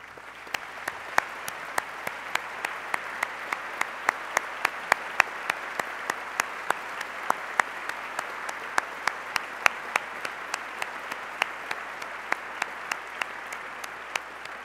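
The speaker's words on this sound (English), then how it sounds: "Let's ask them to stand and give them a round of applause." Sparse applause from a gala audience at the annual Gift of Life benefit, individual claps sounding as distinct sharp cracks in a steady, fairly even rhythm across the whole stretch, moderately distant in a large room.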